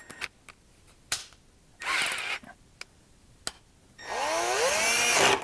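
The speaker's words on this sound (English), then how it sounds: "I have to drill out the inside of that." A power drill with a quarter-inch bit whirs in short bursts, drilling out metal parts for a used oil burner, then runs longer with a rising whine, separated by clicks and taps of metal, close and fairly loud.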